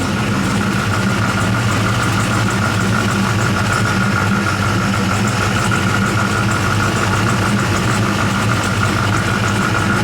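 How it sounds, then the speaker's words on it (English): A 1976 Chevrolet Corvette C3 engine idles steadily at close range, a continuous low rumble with a constant hum and no voices throughout. "That car's idling good."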